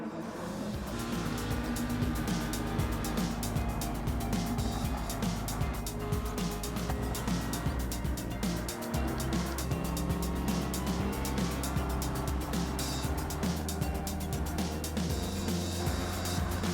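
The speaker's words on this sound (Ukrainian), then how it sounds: "спроба атаки проти Аценса на Порше, яка закінчується успіхом" Race car engines from the Gran Turismo 7 racing game hum and drone steadily at low volume, with shifting revs as cars battle for position during a race.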